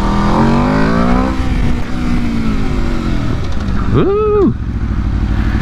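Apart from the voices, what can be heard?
2022 Aprilia RSV4 Factory 1100 motorcycle accelerating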